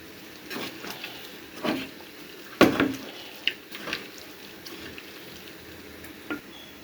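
Beef tripe tossed with oil in a pan, giving soft wet squelches and a few sharper scrapes and clinks of a utensil against the pan over a low sizzling bed, with no talking.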